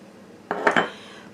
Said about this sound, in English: what I have here is 2 ounces of softened cream cheese, and I'm just going to spoon that right in.